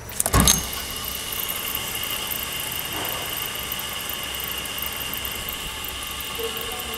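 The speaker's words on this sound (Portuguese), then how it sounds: "O alternador tem que ser removido porque tá com um barulho, olha só, de rolamento" A Mercedes engine runs steadily with a worn, noisy alternator bearing, a constant droning whine and hum carrying through, preceded by a brief loud thump at the start.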